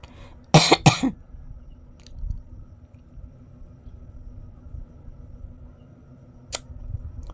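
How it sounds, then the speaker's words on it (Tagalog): A person coughs two or three times in quick succession, close and loud, then the room falls quiet with faint background rumble and a small click near the end. "Inuubo ako."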